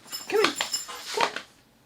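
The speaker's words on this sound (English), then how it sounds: "My dog hates this." A dog whimpers in two short bursts of high, whiny yelps and soft whines indoors, fairly faint and close, then falls quiet.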